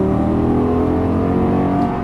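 A Lamborghini Gallardo LP550-2 engine revs hard and continuously under steady throttle on a track, a loud, close, sustained roar with a rising tone.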